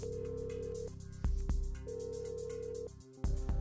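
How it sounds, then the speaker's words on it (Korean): A telephone rings repeatedly in steady electronic bursts with short gaps, loud and close, while a low background tone hums underneath; no one speaks. "모르는 척 유리 씨에게 다시 전화를 건 한상 씨"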